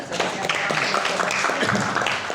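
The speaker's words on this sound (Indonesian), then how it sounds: "Oke, tepuk tangan." Audience at an Islamic teachers' training session clapping, a short burst of scattered hand claps mixed with murmuring voices, moderately close and fairly loud.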